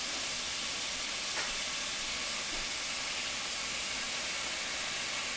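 Hamburger meat fries in a pan with a loud, dense, continuous sizzle and hiss close up, steady throughout with no talking.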